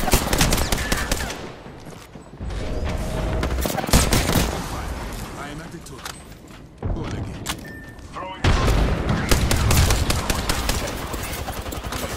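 Rapid gunfire in the Apex Legends video game, bursts of automatic shots and heavy booms crackling loud and close in clustered volleys, with brief lulls between bursts.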